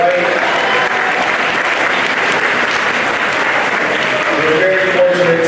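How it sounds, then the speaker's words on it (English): A graduation ceremony audience applauding, loud dense clapping from a large crowd that holds steady for several seconds. "Please give them a nice round of applause to the left and the right."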